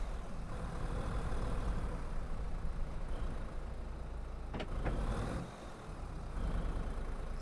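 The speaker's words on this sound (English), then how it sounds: "But tractors, I think we could put these inside here." A tractor engine rumbles steadily at close range as it eases into a shed on a rainy county farm, a continuous low drone with a couple of brief higher clanks or hisses midway and a slight dip in level near the end.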